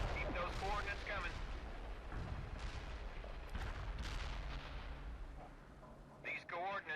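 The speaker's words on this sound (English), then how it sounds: "A perfect artillery hit" Heavy artillery fire in World in Conflict, with booming impacts and rumbling battlefield noise running throughout, partly under radio-style voices talking.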